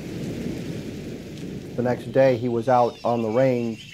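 A nighttime thunderstorm: rain hiss with low thunder rumbling, heard alone at first, then a voice speaks over it in several bursts.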